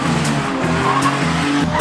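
Two cars twin drifting on a track, tires squealing loudly over a droning engine, close and continuous with pulsing surges.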